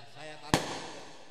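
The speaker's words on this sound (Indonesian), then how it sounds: "disaksikan oleh petasan yang meluncur ke atas" A single sharp firecracker crack bursts out at a mosque groundbreaking ceremony, loud and sudden against a low background murmur.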